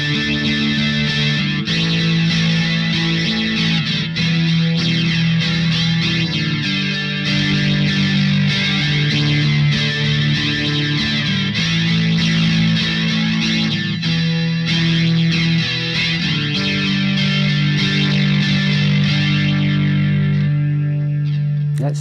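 Electric guitar through a Sonicake QGT-01 multi-effects unit set to a spacey patch, distorted chords with shimmering chorus and echo, repeating a steady pattern loudly without talk before fading at the end.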